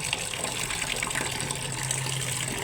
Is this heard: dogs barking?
no